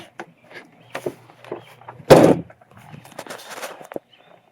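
A vehicle's car door shuts once with a solid thump in the middle, set between quieter handling noises and faint rustling before and after.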